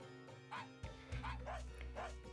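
Small yappy dog barks and yips in a video game, a few quick bursts close and fairly loud over a low background hum.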